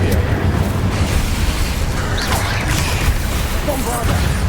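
An Incendio fire spell from Hogwarts Legacy roars amid a loud, dense wall of rumbling, crackling blasts and combat effects that never let up, with a voice speaking over the din.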